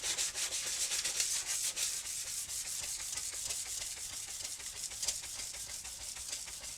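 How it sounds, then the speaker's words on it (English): Steady hand sanding of acrylic rasps close by, a soft rhythmic scratchy rubbing with quick back-and-forth strokes, no voices. "So I'm going to give it a light sanding just so that the paint will key to the acrylic."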